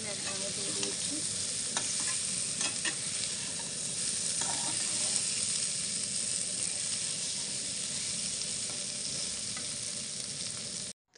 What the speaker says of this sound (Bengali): আমি আলু ভেটে একসঙ্গে দিয়ে দিয়েছি।